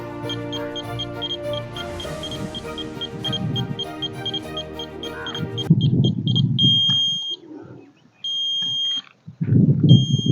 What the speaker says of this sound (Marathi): हा बीप बदललं सर पाण्यावर आल्यामुळं